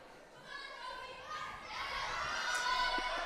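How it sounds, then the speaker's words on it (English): Girls' varsity gymnastics teammates cheer and shout encouragement for a gymnast during her routine, a lively crowd of young voices building louder toward the end. "As you can hear, her teammates are cheering her on."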